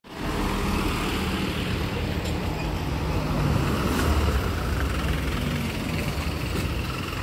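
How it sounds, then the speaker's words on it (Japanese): Support vehicles with out-of-prefecture plates driving past on a road in typhoon-hit Boso Peninsula, a steady close rush of passing traffic and engine noise with no talking. "やっぱ他県ナンバーでちゃんと応援車が走ってますね。"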